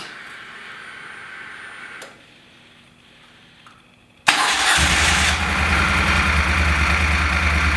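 Soft ticking and clicking, then a 2016 Moto Guzzi Stelvio motorcycle engine suddenly starts and settles into a loud, steady running rumble close by.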